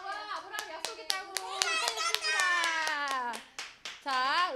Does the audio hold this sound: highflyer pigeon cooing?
no